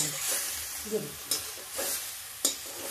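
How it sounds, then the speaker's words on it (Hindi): Ginger garlic paste fries in a pan, a soft continuous sizzle broken by a few sharp scraping stirs of a spoon, close and fairly quiet with no talk. "इसको ऐसे हम पका के अदरक लहसुन का पेस्ट मेरा पक जाएगा"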